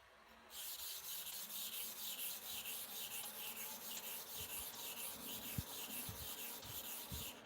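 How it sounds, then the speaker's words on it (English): A clipper blade is rubbed back and forth on a sharpening stone in a continuous close scraping grind, fairly soft and steady, with a few faint knocks near the end and no talking. "This work, sharpening of clipper blade using the super hard manner sharpening."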